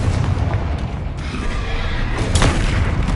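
A Confringo blast spell in Hogwarts Legacy erupts in a loud, booming explosion, a heavy rumbling burst with a sharp crack partway through, close and dominant.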